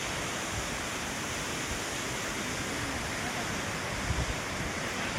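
Broadband rushing water from Chelimicheenu Waterfalls, a steady, dense roar that stays even and continuous throughout with no voices over it.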